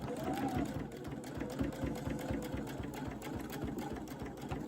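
A sewing machine stitches a bucket hat in a steady run of rapid, evenly spaced needle thumps and a light motor whir, quiet and close, continuing without pause.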